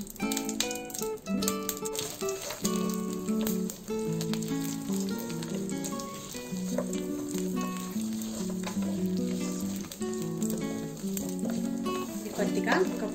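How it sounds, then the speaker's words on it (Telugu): Whole spices and cashews fry in hot oil: cumin, cinnamon, cloves, cardamom, star anise and mace. A bright, crackling sizzle with occasional rattles carries on steadily beneath background music. "కొద్దిగా ఒక 1 మినిట్ ఫ్రై చేసుకున్నామండి."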